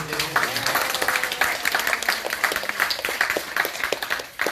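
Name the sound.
audience applause for students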